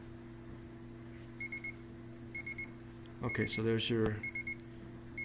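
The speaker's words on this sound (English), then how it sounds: "the high alarm, or the low alarm went off that time" A low-temperature alarm on a tankless water heater beeps in short repeated bursts of high electronic tones over a steady hum, while a person talks briefly in the middle.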